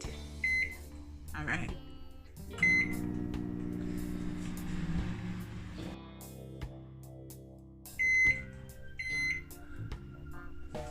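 A microwave oven hums steadily as it cooks a chocolate mug cake, with a beep and a door click near the end and a brief spoken remark over it.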